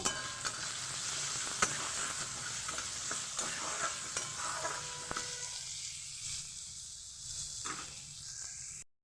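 Finely minced onion frying in oil with black cumin seed and green chilli, a loud steady sizzle and hiss broken by sharp scrapes of stirring, fading slightly toward the end.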